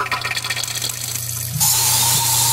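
A water effect from the 8DIO Free Angels Kontakt sample library, a loud rushing, gushing flow that swells and then settles into a steady bright wash.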